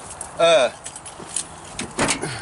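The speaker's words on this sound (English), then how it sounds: "I gave you the keys" A short bright jangle of car keys being handed over during a Ford rescue job, heard once near the start, followed by a few faint clinks and rustles with quiet voices around.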